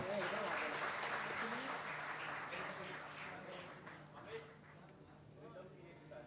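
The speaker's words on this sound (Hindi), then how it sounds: "जोरदार तालियां अमोल के लिए।" An audience at a gymkhana music evening applauds a performer, clapping strong at first and fading gradually, with talking heard over the applause.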